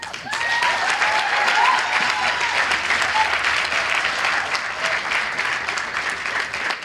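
Audience applause at a university sociology graduation ceremony, a dense sustained clapping from a large crowd that stays loud and even for about seven seconds, with a few faint voices mixed in.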